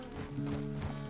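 Horse hooves in the video game Red Dead Redemption 2 beat out a steady, even clip-clop at walking pace, close and continuous under a low background hum.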